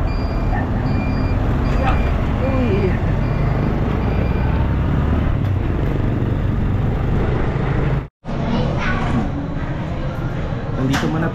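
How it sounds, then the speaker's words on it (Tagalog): A tricycle rides through busy roadway traffic, with a constant engine drone and passing vehicles, loud and close, briefly cutting out near the end before resuming. "Ayan, tricycle tayo."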